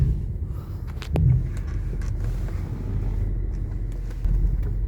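A 1999 Mercedes S500 with its V8 engine starts up inside the car, a brief cranking surge followed by a low, quiet and smooth steady idle rumble, with a slight swell in level near the end.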